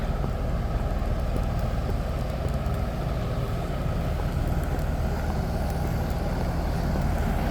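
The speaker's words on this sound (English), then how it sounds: "Sorry about the noise from the truck." A steady, low truck engine rumble drones on throughout at a Grand Cayman resort pool area, with constant broadband noise and no speech.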